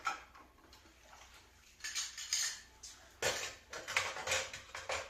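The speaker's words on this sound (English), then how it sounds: "Get the keg lid back out." A beer keg lid being handled during home kegging makes faint, scattered metallic clinks and light scrapes, with a couple of brighter knocks, all quiet and close, with no talking.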